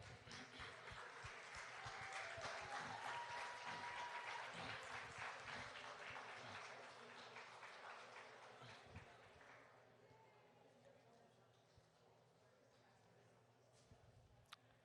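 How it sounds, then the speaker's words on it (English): A banquet audience at a college athletic hall of fame dinner applauding, a soft, even patter of many hands that fades away over the last few seconds, faint and distant with no talking. "All right, one more round of applause."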